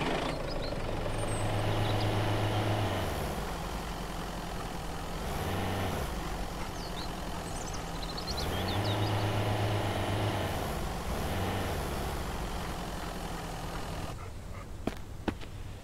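A truck rumbles along in the survival game Mist Survival, its engine droning steadily and rising and falling with gear changes and acceleration, with a few hiss-like air-brake bursts and faint clicks near the end.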